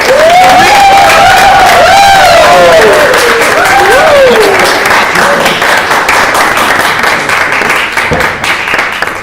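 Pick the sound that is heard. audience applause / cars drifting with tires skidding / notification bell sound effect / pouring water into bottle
audience applause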